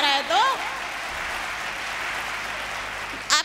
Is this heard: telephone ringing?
no